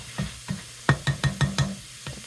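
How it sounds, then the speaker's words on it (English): Vegetables sautéing over medium heat in sausage grease for potato leek soup, a series of close, rhythmic scraping stirs with soft sizzling beneath. "So I'm going to saute these over a medium heat."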